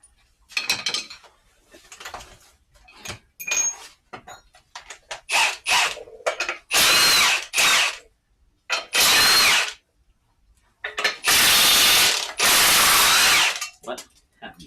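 Flywheel parts being pulled off during a V6 KLDE engine swap into a Mazda Protege5 wagon, with repeated loud bursts of a power tool or ratchet broken by short pauses and quieter clinks.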